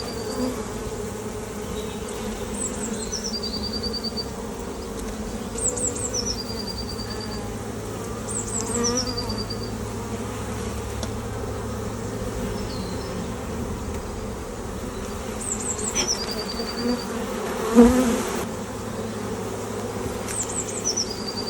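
Honeybees drone in a steady, close buzz throughout a beehive inspection, with occasional louder passes near the frames and faint high chirps in the background; no one speaks.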